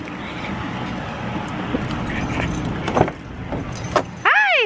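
Keys jangle near a car amid steady roadway and engine noise, with a few metallic clinks, before a brief whining sweep at the end.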